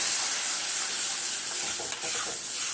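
Semolina being stirred in a hot pan gives a continuous close hissing sizzle with faint scraping, holding steady throughout without any talking.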